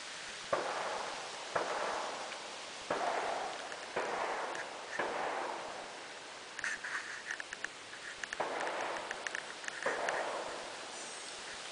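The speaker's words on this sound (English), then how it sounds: "loud gunshots, like I've come up behind a range or something" A series of sharp, distant large-caliber gunshots from a shooting range cracking at irregular intervals, each trailing off into a faint rumble against a quiet outdoor background in Badin Lake Recreation Area.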